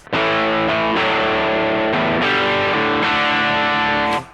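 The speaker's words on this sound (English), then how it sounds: "I can boost the gain here and get a heavier overdrive sound." Electric guitar with a humbucker through a Trex Dual Drive pedal set to heavier overdrive with boosted gain, strumming sustained distorted chords, loud and alone.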